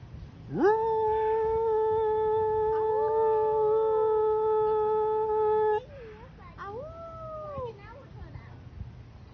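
A long, drawn-out meow from a zoo cat with a steady, harmonic tone, held for several seconds, followed by shorter rising and falling meows.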